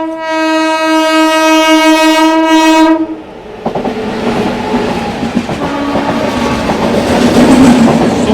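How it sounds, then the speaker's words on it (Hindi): Surat–Malda Town Express train horn sounds loudly for about three seconds with a steady harmonic blare, then the train rumbles past close by with rattling, clanking wagons and rail noise continuing steadily. "Surat Malda town express."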